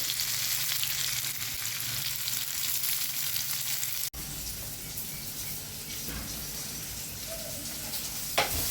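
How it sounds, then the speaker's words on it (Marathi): Brinjal pieces fry in a pan with a loud, continuous sizzle heard close up. Partway through, the hiss drops briefly and then carries on at a slightly lower level, with faint stirring knocks and no speech. "मस्त असे फ्राय झालेले आहे वांगे"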